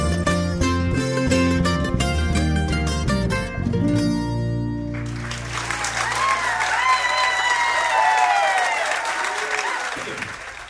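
Music ends and a live audience breaks into loud, sustained applause, with crowd cheering rising over the clapping.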